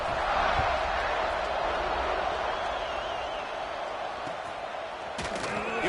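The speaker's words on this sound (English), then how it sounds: "this crowd is buzzing after that last score" Stadium crowd in a college football video game, a broad, steady roar of many voices buzzing continuously at moderate loudness, with faint speech mixed in.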